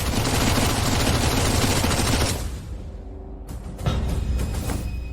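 Dense rapid gunfire from several guns, a loud continuous burst of automatic shots that stops abruptly, followed by a short pause and a few scattered clatters and softer echoing sounds.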